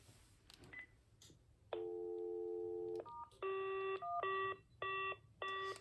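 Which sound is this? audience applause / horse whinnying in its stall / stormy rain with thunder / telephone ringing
telephone ringing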